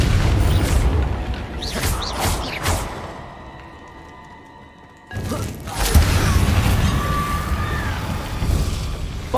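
Descendo spell impacts in Hogwarts Legacy hit with heavy booming crashes, a few loud thuds early and another strong impact after a brief quieter lull, amid magical whooshes and game effects.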